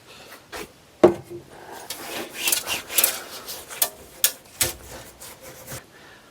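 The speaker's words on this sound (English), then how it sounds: "now I'm going to just take this Scotch-Brite and scuff it up" Abrasive Scotch-Brite pad scuffing the inner fender of a C10/C20 Chevy truck, a series of irregular rasping rubs and strokes with a few sharper scrapes and knocks, close and fairly loud, with no talking.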